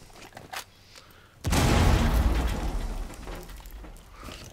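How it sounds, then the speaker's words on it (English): A frag grenade goes off in the game Rainbow Six Siege, a sudden loud blast that rolls into a long rumbling, crackling tail lasting a few seconds, with faint clatter before it. "Throwing frag!"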